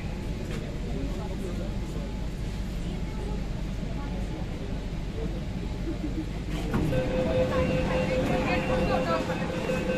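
Riding inside a Kolkata Metro train between Salt Lake and Sealdah, a loud continuous rumble and rattle of the carriage fills the space, with a rising whine and brighter tones joining later as the train changes speed.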